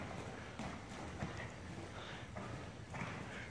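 Horse hooves cantering during a riding lesson, a steady repeated clip-clop rhythm close by and fairly loud over a broad noisy background.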